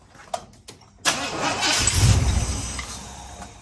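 Carbureted engine cold-starting after an R10 carb swap: a couple of short knocks, then a cranking burst that catches into a loud, rough, rising idle close by, settling slightly.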